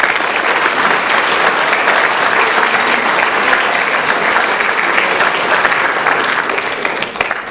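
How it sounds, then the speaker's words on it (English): A crowd in a gym gives sustained applause to the coaches at a girls' basketball state send-off, a steady dense roar of clapping that holds for several seconds before tapering slightly at the end. "So let's give them a round of applause."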